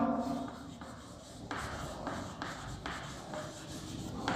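Pen or chalk writing on a board during a chemistry lecture on alcohols, phenols and ethers: a steady run of scratchy strokes in short bursts, fairly close, with no talking over it.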